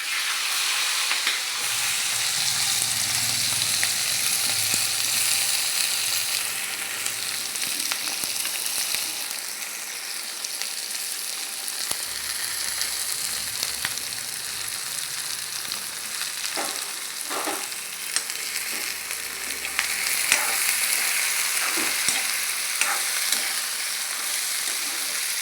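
Chopped onions and green chillies sizzle in hot oil in a pan for an egg curry, a steady, close frying hiss running throughout with occasional crackles and no talking.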